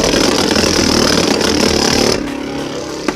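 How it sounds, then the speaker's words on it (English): A right-spin spinning top in attack mode grinds against a stadium, giving a loud, harsh, continuous scraping whir for about two seconds before it abruptly drops to a quieter rumble. "Yeah, that's some major scraping there."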